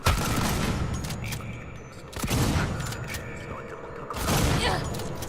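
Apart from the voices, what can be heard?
gunshots in the video game Alien: Isolation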